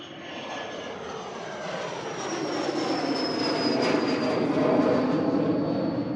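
A Learjet 75 business jet passes at Manchester Airport, a loud rising engine roar with a whining tone that slowly slides lower as it swells toward the middle and stays strong to the end.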